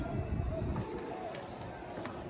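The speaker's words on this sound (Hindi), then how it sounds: "ये सारे कबूतर टैंकी पे आके बैठ गए थे और ये अब आ गए वापसी नीचे" Low, soft cooing from a flock of pigeons settling near a rooftop water tank, murmuring steadily close by with a few faint higher chirps in the background.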